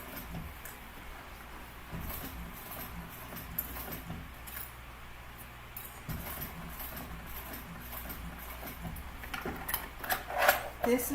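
A sewing machine stitches a seam on a vinyl tote bag with a steady, fairly quiet mechanical whir. Scattered clicks and handling knocks build toward the end, with some faint voice-like sound mixed in.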